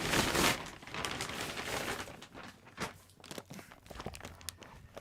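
Outer plastic bag of a Norfolk Crunch bread mix from Haygates being torn open and crinkled, close and loud at first, then softer scattered crackles and rustles.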